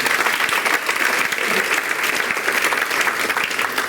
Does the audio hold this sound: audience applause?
yes